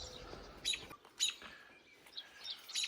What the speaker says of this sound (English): Birds are not happy with us.